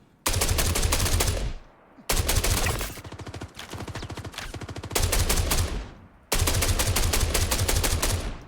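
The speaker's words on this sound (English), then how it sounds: "Are my bullets taking travel time? That's why I'm not hitting them" Automatic gunfire in the video game Star Citizen, loud rapid bursts with clear gaps between them, repeating four times close up with no talking.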